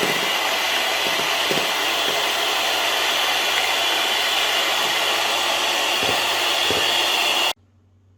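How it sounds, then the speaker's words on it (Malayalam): An electric hand mixer beats eggs for a Christmas plum cake with a steady, loud whirring drone and a few clicks against the bowl, then cuts off abruptly near the end. "അപ്പോൾ നമ്മുടെ മുട്ട നമുക്കൊന്ന് ബീറ്റ് ചെയ്തെടുക്കാം."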